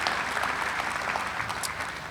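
An audience gives a round of applause at a ceremony honoring Gene and Sheila in a stadium setting, steady dense clapping heard from a moderate distance with no voices over it.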